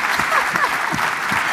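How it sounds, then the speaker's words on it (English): A conference audience in Singapore applauds in a steady, full round of clapping after a dialogue session, with faint voices mixed in. "Let's give Professor Chan a round of applause."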